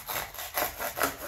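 A hand saw cutting through hardened epoxy on the firewall of a Volantex Saber model plane, with three slow, rasping strokes in an even rhythm, close and moderately loud.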